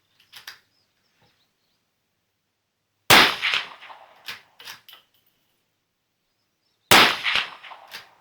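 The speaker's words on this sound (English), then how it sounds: "So this is with the two shots, one of the 30 and one of the 40 grainer" Rifle fired without a suppressor, one 30-grain and one 40-grain round; two sharp, loud cracks a few seconds apart, each followed by short echoing clatter, with quiet gaps around them.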